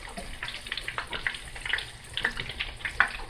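Breaded shrimp frying in hot oil give off an irregular, sputtering crackle with quick pops scattered throughout, fairly close and fairly quiet, with no one talking.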